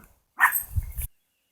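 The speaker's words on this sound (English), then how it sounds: "doggies were barking" A dog gives one short, close bark burst that ends abruptly, followed by silence.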